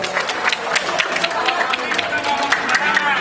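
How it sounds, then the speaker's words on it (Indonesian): A debate audience claps steadily in a room, a continuous patter of many hands at moderate loudness. "Baik, tepuk tangan."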